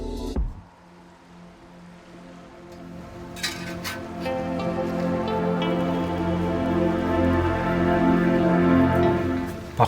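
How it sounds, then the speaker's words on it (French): Rain falling outdoors in Stuttgart, a soft steady patter with scattered drips that slowly builds after a quiet start, heard alone with no talk. "là, il pleut vraiment"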